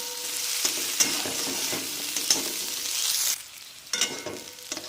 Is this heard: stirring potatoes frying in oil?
yes